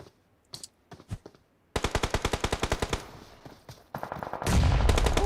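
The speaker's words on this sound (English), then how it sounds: "Let's go on and check on Ghost, who sees someone and is engaging in a gunfight." Gunfire from a gunfight in an esports match of a tactical shooter video game: a few scattered shots, then a rapid burst of automatic fire, and finally a loud sustained blast and roar of fire, all close and with no voices.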